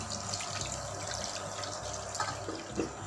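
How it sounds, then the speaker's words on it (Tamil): Water streams steadily into wheat flour dough for halwa, a continuous gurgling splash with a few brighter drips and splashes near the end, and no talking. "இப்போ இதில் 4 டம்ளர் தண்ணி ஊற்றணும்."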